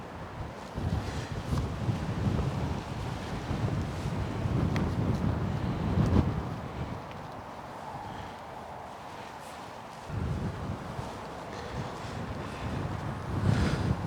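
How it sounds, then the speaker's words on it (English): Gusty wind buffets the microphone outside a Durston X-Mid 2P tent in rumbling bursts, easing briefly before picking up again, with no voices. "that's it in wind. Now it is windy."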